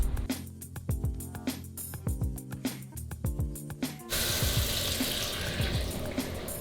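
Water gushes steadily from a house tap after the supply is turned back on, following a few seconds of metallic knocks and clanks from the plumbing. The rushing flow is close and fairly loud.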